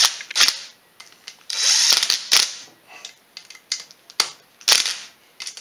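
A power tool gun snugs up a bolt during a Polaris 500 engine rebuild, giving several short bright ratcheting bursts and clicks with a longer whirring run in between, close and sharp, separated by brief pauses.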